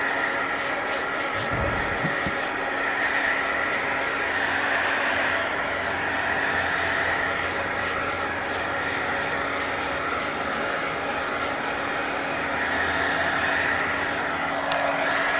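Hair dryer drying mixed media paint, a loud, steady whooshing roar that holds without a break the whole time, close, with no talk.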